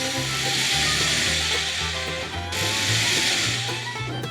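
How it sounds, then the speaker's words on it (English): Loud, steady whine of a small power drill running continuously while drilling small guiding holes, pitch shifting slightly as it bites into material. "Make small guiding holes."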